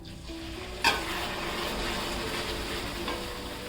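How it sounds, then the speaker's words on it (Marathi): Hot milk is poured into semolina sheera with banana in a hot pan, setting off a sharp burst of sizzling that settles into steady frying and stirring noise, close and fairly soft, with no voices. "याच्यामध्ये ना गरम केलेलं थोडं थोडं दूध घालूया आता आपण"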